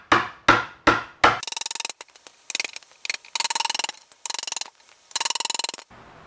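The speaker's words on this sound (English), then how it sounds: "Next, we're going to use a hammer and chisel and notch out the end." A hammer strikes a chisel to notch the end of a 2x8 wooden board, four sharp separate blows followed by bursts of rapid rattling taps, close and crisp with brief pauses between.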